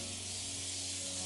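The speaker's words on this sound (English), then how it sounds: "So I'm using the same setting spray from before." Morphe makeup setting spray misted in one steady, close hiss lasting about a second, with a faint hum underneath and no talking.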